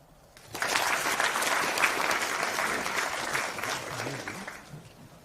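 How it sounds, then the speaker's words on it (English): An audience at an economics summit breaks into applause, starting abruptly after a brief quiet, holding steady and loud, then thinning slightly toward the end. "Give that man a clap."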